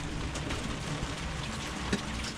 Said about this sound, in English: Loads of rain coming. Big, massive rain squall.